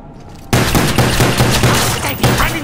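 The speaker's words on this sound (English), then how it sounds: "a shotgun is just so much fun!" Shotgun blasts in the Call of Duty Black Ops zombies map Kino Der Toten, a series of loud, close booming shots in quick succession that start after a brief quiet moment and run continuously with game ambience.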